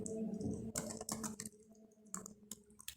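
Fast, close typing of C program code on a computer keyboard: quick bursts of crisp key clicks with brief pauses, faint and with no voices.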